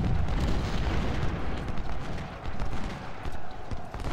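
Cannon and musket fire in Ultimate General: Civil War, a dense, continuous rumble of booms and crackling shots on a battlefield, loud and without pause.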